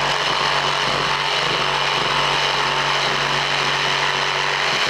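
A power coping tool saws through baseboard fillets, producing a loud, continuous close-up motor whine and cutting buzz with slight shifts in pitch as it bites into the wood.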